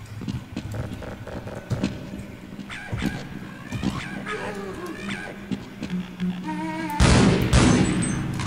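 Grenades go off in a Half-Life mod video game, with a loud, dense blast rumbling near the end after a stretch of scattered game sounds, gunfire-like pops and voices.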